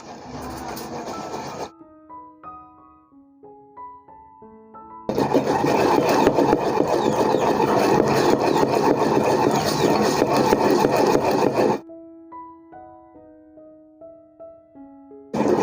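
Poppy seeds ground by hand for traditional thandai give a steady, harsh rubbing and grinding noise that fills several seconds between stretches of melodic background music.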